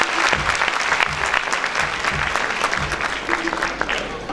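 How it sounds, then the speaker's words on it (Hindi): Loud, dense audience applause fills a live stage celebration event, a steady wash of many hands clapping throughout with faint voices mixed in. "प्लीज ताली बजाएं"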